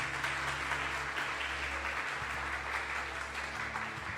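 A church congregation applauds steadily throughout, a sustained wash of clapping over a low, continuous hum, with no voices over it.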